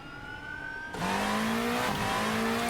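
A hypercar engine in a sim racing game fires up after a clutch dump, the idle hum giving way to a loud, steady engine drone whose pitch climbs, with a brief hitch near the end.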